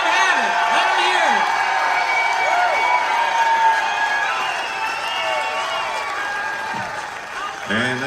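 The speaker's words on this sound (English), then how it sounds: "Give him another great big round of applause" A concert crowd at a show keeps up a continuous roar of applause and cheering, and whistles and whoops rise and fall through it.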